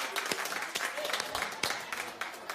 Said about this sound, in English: Clap if you like it.